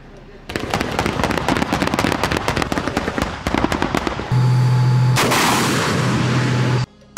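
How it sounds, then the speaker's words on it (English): Rapid live fire from the twin 2A42 autocannons of a BMPT Terminator tank, loud sustained bursts of close heavy gunshots with a steady mechanical drone joining partway through. "2A42 autocannons, capable of firing up to 550 rounds per minute each, using a mix of high-explosive and armor-piercing ammunition"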